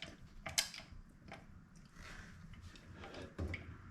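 A torque wrench ratchets and clicks while tightening a fastener in a test of a Makita XDT13 impact driver, giving a few faint, close mechanical clicks and creaks over quiet background.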